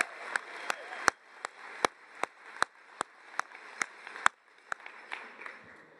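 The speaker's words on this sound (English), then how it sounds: "Let's give these super parent graduates a big round of applause." Sparse, evenly paced clapping rings out at a college commencement ceremony honoring graduating single parents. The claps are sharp and distinct, with a soft room murmur underneath and no talking.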